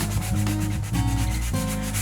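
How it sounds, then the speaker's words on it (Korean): Sandpaper rubbed over furniture coated with a natural loess clay finish, brisk back-and-forth scraping strokes in a close, steady rhythm with no talk. "가구에 제품 시공 후 사포질하면 깨끗한 표면을 만들 수 있습니다."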